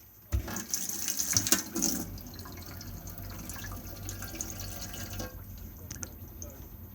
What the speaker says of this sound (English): We need the water pump on so we can get water out of the taps.